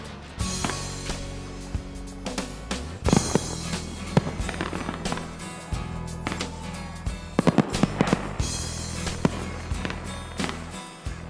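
Fireworks at Anchorage's Fur Rendezvous winter festival in Alaska crackle and pop in dense volleys, sharp bangs and fizzing bursts layered over a rumbling background, loud and continuous with several clustered peaks.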